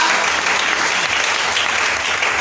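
A church congregation claps and cheers together in a steady, dense wash of applause that stays loud and even throughout, with no distinct voices standing out.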